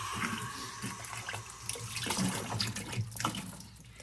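Water trickles and splashes quietly nearby as it is applied to wet a paper speaker dome during a Mitsubishi Diatone DS50CS speaker restoration, a soft running-tap sound with small drips and no voices.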